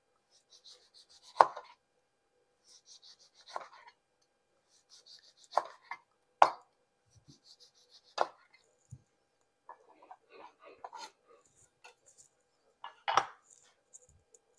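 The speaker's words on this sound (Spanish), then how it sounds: "Esta la voy a cortar en rodaja para la presentación de nuestra bebida" A knife cuts an orange into rounds on a board, giving sparse, separate chops with pauses between them, close and fairly quiet, with no talk over them.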